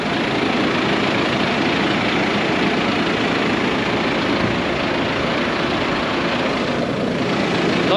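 A small Kubota compact tractor engine idles steadily, a dense even rumble with no change in pace across the stretch and no voices.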